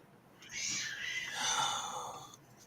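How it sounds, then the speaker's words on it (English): A cat makes unhappy, drawn-out moaning cries: two long wavering yowls that run into each other, moderately close and fairly quiet, with no talking. "Cats being jerks again."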